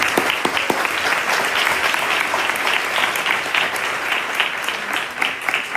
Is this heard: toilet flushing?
no